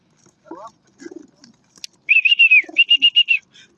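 Young pigeons calling close by during training: a few soft low coos, then a run of repeated bright whistling notes in quick succession.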